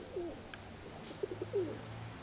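A pigeon with no tail and dull plumage coos softly inside a dovecote, giving a few short, low, throaty calls close by over a quiet background.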